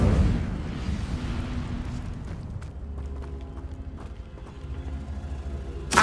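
An Incendio fire spell is cast in Hogwarts Legacy on PS5: a loud fiery burst at the start settles into a low rumbling crackle, with a sharp pop near the end.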